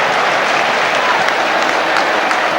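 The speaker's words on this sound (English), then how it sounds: "A few applause from the home supporters." Home supporters at a 1996 UEFA Cup football match between Olympique Lyonnais and Nottingham Forest applaud in a dense, steady wash of clapping that stays even and loud throughout.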